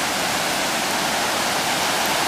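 Victoria Falls in Zimbabwe, the world's widest waterfall, heard as a dense, unbroken roar of falling water filling the air evenly and loudly from a viewpoint.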